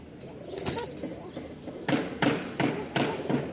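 Bashiraj pigeons cooing in a loft, several short repeated coos near the mic in a loose rhythm, with someone talking over and between the calls.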